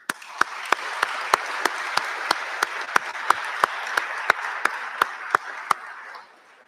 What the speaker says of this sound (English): So I'd like to have a round of applause for all of the people that made this day